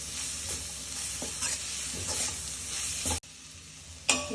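Coconut, mint and coriander sautéing in a pan make a continuous low sizzle, broken by soft stirring scrapes and spoon taps. A brief clatter comes near the end, and nobody speaks.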